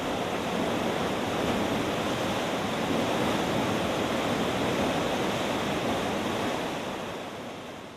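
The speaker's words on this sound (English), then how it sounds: "The rush of water is thrilling to see and hear." A powerful, continuous rush of water pours through an Erie Canal lock at Little Falls as a cruise ship is lowered, a dense steady roar that eases slightly toward the end.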